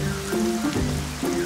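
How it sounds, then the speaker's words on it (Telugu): Cartoon rain falls steadily, a continuous hiss of drops on a surface with a faint tonal hum running underneath. "సరే ఏంట్రా అయితే ఎంత వర్షం పడుతుంది?"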